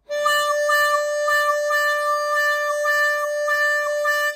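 Blues harmonica holding one bright note while cupped hands open and close quickly over it, giving a rhythmic wah-wah pulse about seven times, clear and solo with no talking.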